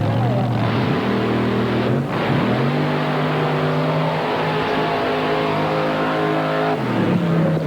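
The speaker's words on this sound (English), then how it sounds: "He raised the RPM up to try to get a hole shot, lifted off the brake, went down on the throttle." A mud racing dragster engine revs hard at launch during a 1991 NMRO mud race in McComb, Mississippi, a loud, sustained roar whose pitch climbs, dips and climbs again while an announcer talks over it.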